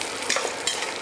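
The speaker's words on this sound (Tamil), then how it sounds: "இப்போ கொஞ்சம் வதக்கலாம்." Spices and salt sauté in a pan, a close, steady sizzle and fry broken by brief scraping stirs over about a second.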